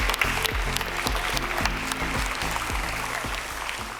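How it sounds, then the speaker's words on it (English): Applause fills a start-up contest award ceremony as the crowd claps steadily throughout, a dense even patter with music playing underneath. "Another round of applause for SharpShark"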